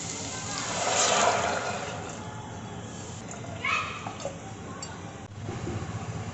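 Hot water pours and sloshes into a pan of sautéed horse gram, a brief gush followed by quieter splashing and a light clink, with background murmuring.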